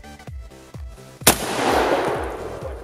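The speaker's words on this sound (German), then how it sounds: "Jetzt laden wir ein Hochladungsgeschoss für den stärksten Vorhängeschloss und schießen" A single loud AK-47 rifle shot fired at a heavy padlock, a sharp close crack with a long rumbling tail, preceded by several dull thumping impacts in a steady rhythm.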